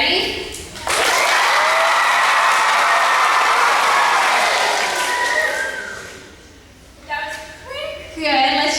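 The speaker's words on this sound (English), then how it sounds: "that's when all of you boys and girls are going to stop cheering and stop woo-hooing" A crowd of schoolchildren cheering and woo-hooing at a school visit by a player, a loud sustained roar of young voices that fades out, then rises again in short bursts.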